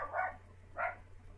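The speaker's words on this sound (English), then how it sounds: "Pablo is a little barking Pablo." Pablo, a small pet dog, gives two faint, muffled barks about half a second apart, heard from a distance over a low hum.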